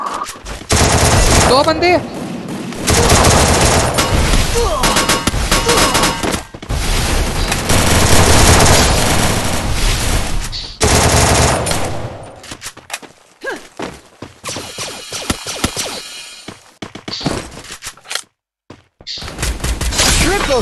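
Rapid automatic gunfire and single shots from the battle-royale shooter Free Fire ring out loud and dense through most of the stretch, thinning to scattered bursts near the end, with players talking over the action.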